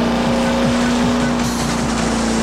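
A green Camaro sports car in a racing video game on a track set in Paris, its engine droning steadily loud and close with a constant pitch and repeated sweeping tones.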